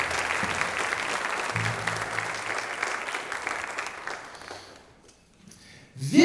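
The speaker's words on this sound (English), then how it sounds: "Let's give him a round of applause, please, too." An audience at a high school jazz band concert applauds a trumpet soloist, with moderately loud, dense clapping that thins and fades out over about five seconds before a sudden closing sound.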